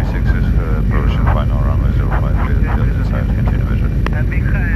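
A Russian airplane just after landing fills the clip with a loud, continuous engine roar, with voices talking over it throughout.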